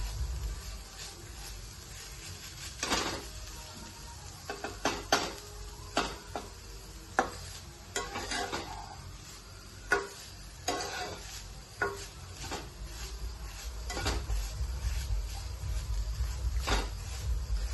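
Modak filling cooks in a pan and is stirred, giving a soft low sizzle broken by scattered clinks and scrapes of a spoon against the pan at an uneven pace, with no talking.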